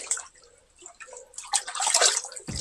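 Water drips and trickles inside a cave near a cemetery, seeping from the earth above: sparse echoing drops at first, then a louder burst of splashing and gurgling near the end, close by with no talk.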